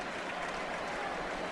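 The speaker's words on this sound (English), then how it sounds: "And to the roar of the crowd, Polar Expedition breaks first" A horse racing crowd roaring as the field breaks from the gate, a dense, loud, continuous wash of cheering voices in a big grandstand.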